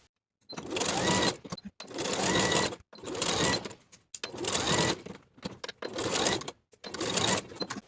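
A home sewing machine bastes the main waistband onto a woven romper bodice, running in six steady bursts of close, even stitching separated by short pauses.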